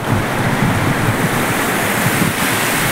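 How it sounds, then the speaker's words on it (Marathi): Sea waves wash steadily onto the beach at Velas, where many people are in the water. The surf gives a continuous, loud roar with some wind noise and no speech. "पाण्यामध्ये आलो आम्ही समुद्राच्या, पार्थ आणि मी, आणि भरपूर लोक देखील पाण्यात आलेले आहेत."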